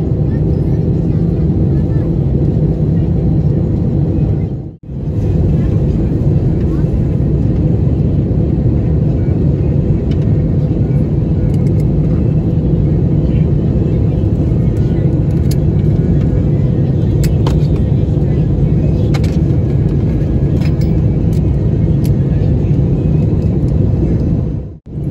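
Delta Airbus A321 main cabin on descent toward Montego Bay, a steady loud broadband engine and airflow roar filling the cabin, with one brief dip in the noise partway through.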